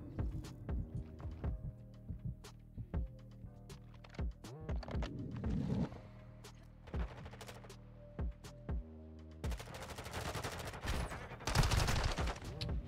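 Gunfire in Modern Warfare 2 ranked multiplayer: rapid bursts of shots crackle throughout, with loud sustained automatic volleys near the end.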